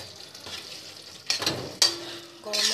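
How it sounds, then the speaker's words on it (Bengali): Aloo dum with garam masala stirred in a pan, quiet sizzling broken by a few sharp scraping strokes of a spoon against the pan, the last ones grouped near the end. "গরম মশলা দিয়ে একটু নাড়িয়ে দিলেই ব্যাস রেডি আলুর দম।"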